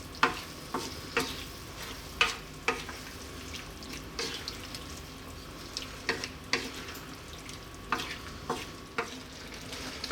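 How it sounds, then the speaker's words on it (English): Vegetable biryani base with potatoes simmering in a pot and stirred now and then, a soft bubbling bed broken by sharp, regular spoon scrapes and taps against the pot, close and without speech. "Give it a stir every now and then"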